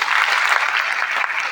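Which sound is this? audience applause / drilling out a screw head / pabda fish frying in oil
audience applause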